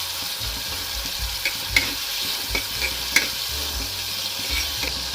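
Salt is stirred into shevga handi, a drumstick curry cooking in a clay pot, with a soft, steady sizzle under a few light spoon scrapes and taps against the pot.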